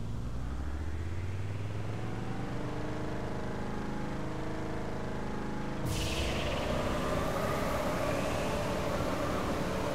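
A vehicle driving in the video game Borderlands makes a steady, loud engine rumble with a wash of noise, and a sudden brighter hiss joins about halfway through and continues to the end, with no speech.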